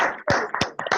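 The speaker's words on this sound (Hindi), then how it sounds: "हमारे महागुरु जी निहाल सर के लिए एक जोरदार ताली हो जाए दोस्तों।" Applause welcoming a speaker onto a training panel: a brief burst of clapping from an audience, with several sharp claps in uneven rhythm, fairly loud and close.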